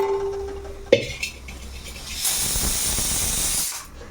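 A pressure cooker cooking dal releases steam. A short tone and a clank come first, then a loud, harsh hiss rushes out for over a second before cutting off.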